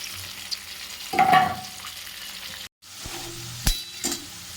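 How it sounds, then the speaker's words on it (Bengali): Tomato and green chili paste hits hot oil with fried ginger in a pan, giving a sudden loud sizzle that settles into steady frying, with a brief pause and a few later stirs and clinks. "এরপরে এতে টমেটো আর কাঁচা লঙ্কা একসঙ্গে বেটে রেখেছিলাম সেই টমেটো বাটাটা দিয়ে দিলাম"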